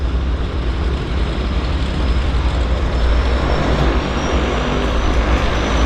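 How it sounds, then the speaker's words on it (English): A de Havilland Turbine Otter floatplane engine starts at a harbour airport, droning loudly and steadily nearby, a broad whooshing roar with a faint high whine rising over several seconds. "That Turbine Otter is now starting engines for their departure."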